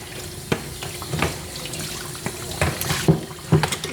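Water sprays onto a miniature poodle's coat while it is wet down before shampoo during grooming, a steady hissing spray with soft splashes and a few brief knocks, near and continuous, with no talking.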